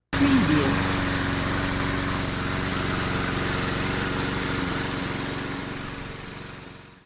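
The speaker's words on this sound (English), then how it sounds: "the lawnmower," A lawnmower engine drones steadily and loudly, a continuous mechanical rumble that fades slightly toward the end.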